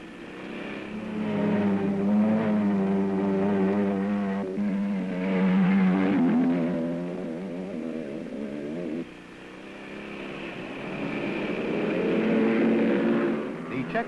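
Motorcycle engines at the 1960 ISDT trial in Bad Aussee, Austria, drone and rise as riders work a stony serpentine track in thick fog, a steady loud hum with changing pitch.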